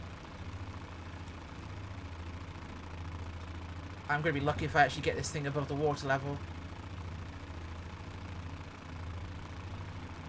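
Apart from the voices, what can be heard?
single engine of Fokker F.VII triplane, MSFS 2020 video game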